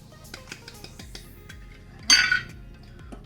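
Flour and baking powder being stirred in a bowl without a whisk, with a series of light utensil taps and clinks against the bowl and one brighter, louder clatter partway through; no talk.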